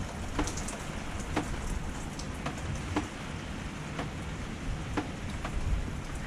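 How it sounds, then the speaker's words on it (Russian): Steady outdoor rain pours down continuously, with scattered louder drips and drops landing on nearby surfaces over a dense, even hiss. "Вот и обещанный дождь."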